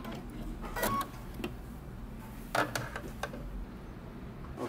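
Sewing machine stitching a shirt yoke for a men's fitted shirt, heard as a low steady motor hum with a couple of short, louder mechanical bursts, close by and without talk.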